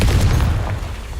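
A Confringo spell explodes in Hogwarts Legacy with a loud, close, deep boom that rumbles for about a second and fades slightly, heard alone.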